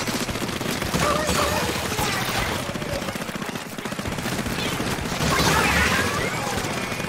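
Dense rapid gunfire from shooting in the video game Splatoon 3, loud and continuous with bursts of weapon fire, while a voice talks over the action.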